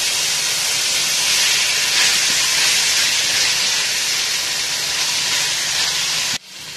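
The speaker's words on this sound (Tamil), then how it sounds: "இப்போ வெங்காயம் நல்லா வதங்கட்டும்." Onions sizzle in hot oil with green chilies while sautéing for a vegetable kurma, a loud, steady, dense hiss that runs unbroken for several seconds before cutting out abruptly at the end.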